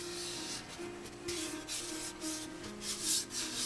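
Bare hand rubbing across sanded motorcycle fairing bodywork on a Honda, a faint close-up dry swishing with uneven strokes and brighter scuffs over a few seconds, no talking.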